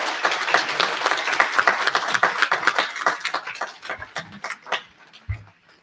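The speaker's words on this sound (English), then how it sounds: "one more round of applause for them" An audience at a city candidate forum breaks into applause, a dense patter of many hands that thins out into a few scattered claps before fading away.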